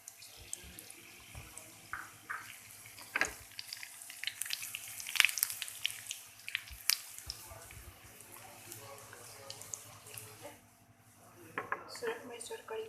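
Cumin seeds, broken dried red chillies and curry leaves crackle and sizzle in hot oil for a tempering, with a steady hiss and scattered pops and clinks from the pan.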